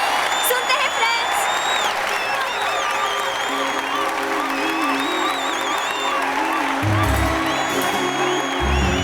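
A crowd of college students applauds and cheers, with claps, whoops and excited chatter blending into a dense, lively wash over a film soundtrack with music and voices.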